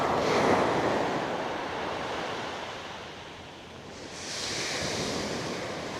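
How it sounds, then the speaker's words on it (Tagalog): Ocean surf rolls onto a shallow, cove-sheltered beachfront in Palawig as a continuous broad wash, swelling and easing, with wind buffeting the microphone and no voices. "So, ayan ang beachfront dito sa Palawig."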